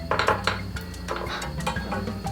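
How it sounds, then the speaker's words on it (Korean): Cheonggukjang stew ingredients stir-fried in a pot over medium heat on a home stove, with a utensil clinking and scraping against the pot in quick, close, moderately loud strokes. "일단 중불로 한번 볶아볼게요."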